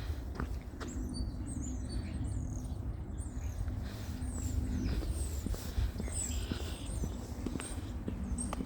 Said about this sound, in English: There are a lot of beautiful birds I have seen other times. You can hear them.